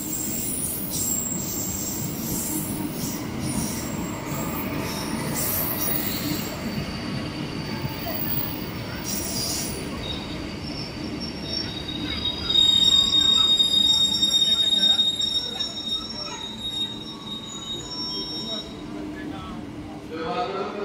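The Serayu train rolls through a busy Jakarta station with steady rumbling and high, metallic wheel squeals, growing louder midway, amid station background noise.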